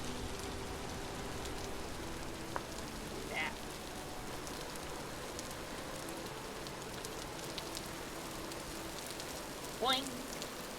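Rain falling in the game Vintage Story, a steady soft hiss of drops with faint patter and a couple of brief chirpy sounds, under occasional quiet talk.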